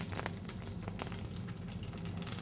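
Cumin seeds hitting hot oil, giving a continuous crackling sizzle with sharp pops and spits near the start, steady and close with no voices.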